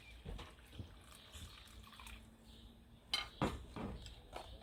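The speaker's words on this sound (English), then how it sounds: "I'm going to put some fresh water in the container here." Fresh water is poured into a simple container in a caterpillar enclosure, heard as faint close trickling and splashing with light clinks of the container, and no talk.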